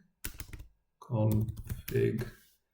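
Computer keyboard typing at a Windows Server 2022 command prompt, a quick burst of close, light key clicks followed by short stretches of speech.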